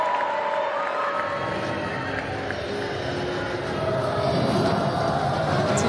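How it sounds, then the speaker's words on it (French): A large audience at the Miss Cameroon pageant cheers and applauds the newly crowned winner in a steady, loud roar of clapping and shouting that sustains throughout. "On l'acclame bien fort."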